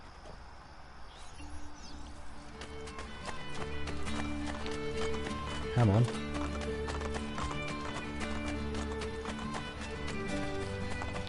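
Horse hooves clip-clop at a gallop in Assassin's Creed Brotherhood, with a neigh near the middle, over steady game music and ambient birds; a voice speaks briefly.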